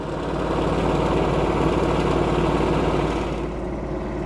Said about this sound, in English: The engine will go into a high rev. The idle control must be in the on position, and it will go ahead and idle down.